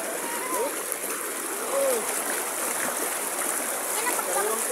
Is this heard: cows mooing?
no